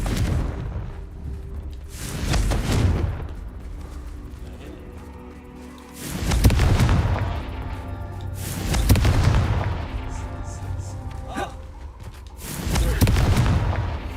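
Confringo spell explosions in Hogwarts Legacy, several deep booming blasts landing every few seconds over a continuous rumbling game background.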